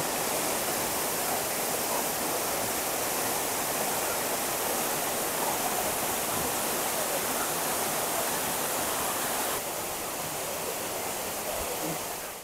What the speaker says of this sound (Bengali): এই জলপ্রপাত একেবারে যেন আমাদের সামনে।